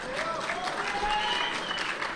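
A crowd at a women's featherweight submission grappling match applauds, a dense, steady clapping that lasts throughout with faint voices mixed in.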